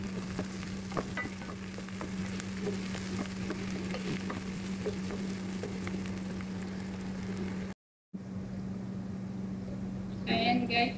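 Food frying and browning in a pan, a steady close sizzle running throughout with a brief dropout near the end, then a louder burst of stirring or spattering.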